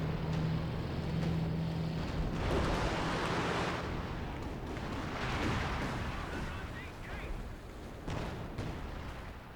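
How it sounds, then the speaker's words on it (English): Airstrike explosions in Company of Heroes 2 roll out as two broad, rumbling booms several seconds apart, heavy and distant-sounding amid continuous battle noise, with a voice talking over them. "so great airstrike right there."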